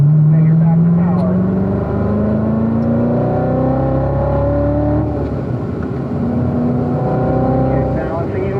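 Race car engine accelerating hard around a track at Pahrump, Nevada, loud close onboard roar climbing through the revs, briefly easing and rising again, with a coach's voice speaking over it.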